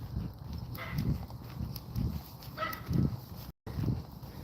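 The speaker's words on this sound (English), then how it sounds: "Whenever he sees me coming, he starts to bark." A small dog barks repeatedly at a distance during an outdoor walk. The yaps are faint and land in a loose rhythm about every half second, over steady footsteps and background noise.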